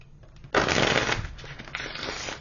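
A Beltane Oracle card deck is shuffled in a brief, close riffle-and-slide burst that starts abruptly, then eases into a softer, steady rustle of cards.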